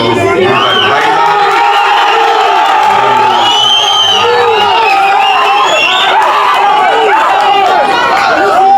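A crowd at an early-childhood classroom launch led by a county governor in Kakamega cheers loudly, with whoops, shouts and overlapping voices in a dense, close, continuous burst.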